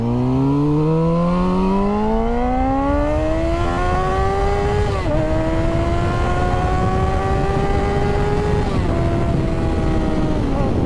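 Motorcycle engine revving high, held near 9,000–10,000 RPM, breaking up at the top, with a rising whine, two sharp dips as it cuts out, under heavy wind rush.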